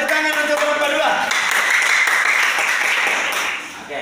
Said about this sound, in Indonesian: Ya, tepuk tangan untuk kelompok 2.